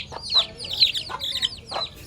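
A hen sick with fowlpox clucks several times in short, rhythmic calls, close by, over a faint background hum.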